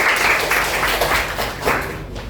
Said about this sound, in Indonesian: Tepuk tangan untuk yang menjawab dong.